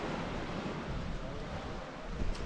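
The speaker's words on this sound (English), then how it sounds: "the waves are crashing against the beach" Waves crash on a small sandy beach beside the Portixol promenade, a steady, rushing wash that is partly masked by heavy wind buffeting the microphone.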